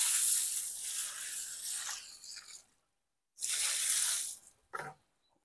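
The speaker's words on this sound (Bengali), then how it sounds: "তো ফের একটু জল দিয়ে দিচ্ছি" Water pours from a vessel onto a potted tulsi (holy basil) plant in two loud, splashing streams separated by a short silence, followed by a brief final splash.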